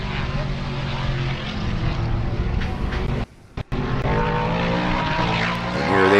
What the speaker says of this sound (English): You can hear them coming before you can see them